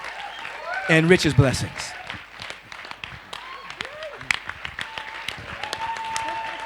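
An audience at a spiritual lecture series during an international yoga festival applauds for Reverend Michael, scattered clapping that swells briefly and then thins into sparse claps under someone speaking and a few other voices.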